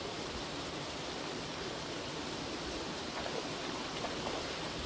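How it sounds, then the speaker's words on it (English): A waterfall at a pond gives a steady, even broadband rush of falling water that continues unchanged throughout, heard alone at a fairly soft level. "Probably too much noise in the waterfall."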